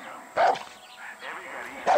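Dog barking in the video game Far Cry 6, two sharp yelping barks at the start and end with someone speaking between them.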